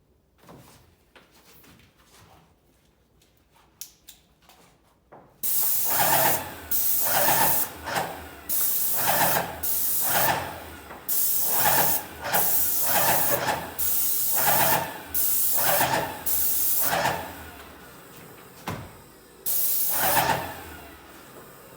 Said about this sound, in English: So I'm just going to spray with this a little bit to give you an idea of how fine this is.